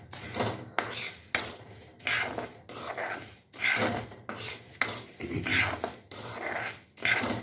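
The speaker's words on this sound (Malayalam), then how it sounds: "നന്നായിട്ട് ഇളക്കി കൊടുക്കണം." Food being stirred and roasted in a frying pan, a metal utensil scraping and clinking against the pan in repeated strokes, close and fairly loud with brief pauses between them.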